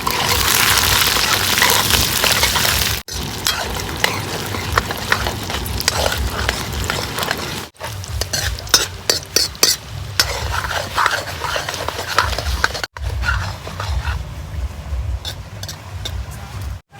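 Dried red chillies, chana dal and urad dal fry in oil for an idli chutney tempering, a loud crackling sizzle punctuated by repeated spoon scrapes and clinks against the pan, without any talking.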